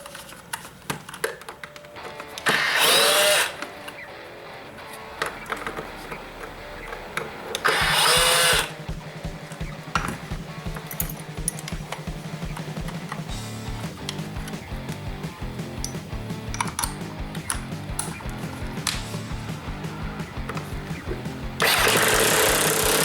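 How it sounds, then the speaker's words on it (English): Hammerhead HCID120 impact driver removing a door strike plate and then drilling a hole, heard as loud bursts of driving between stretches of steady drilling and handling noise. "What I'm going to do is use the hammerhead to remove the strike plate"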